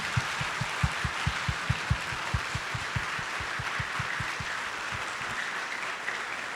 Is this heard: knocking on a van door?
no